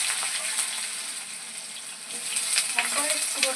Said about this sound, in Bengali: কাঁকরোল আর আলু একসঙ্গে মিক্সড করেই দিয়ে দিচ্ছি। এটা আমি লাল লাল করে ভেজে নিতে হবে।